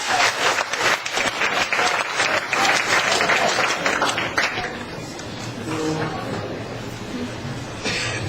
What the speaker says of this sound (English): Can we have a warm round of applause for Shelley Matlock?